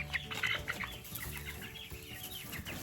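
Chickens clucking and chattering together in a dense, busy flock, fairly quiet and steady throughout with no talking.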